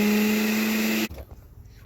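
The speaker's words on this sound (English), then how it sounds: "Now we are gonna turn this blender on." A blender whirring loudly and steadily on watermelon agua fresca, then cutting off abruptly about halfway through, leaving a quiet room and a brief knock at the end.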